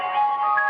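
An incoming-call phone ringtone plays a bright, tinkling ice-cream-truck-style melody, steady and moderately loud, with no talking over it.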